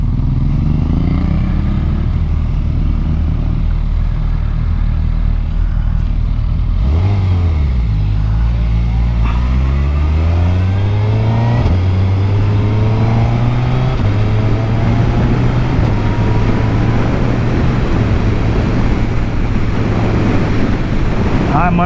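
Suzuki Hayabusa motorcycle accelerating with clutchless shifting, its engine note climbing and dropping through several quick gear changes amid heavy wind rush, loud and close throughout.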